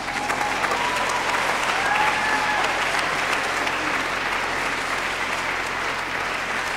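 Sustained audience applause fills a gospel concert hall, a dense, even wash of clapping hands that holds steady from start to finish with no voices above it.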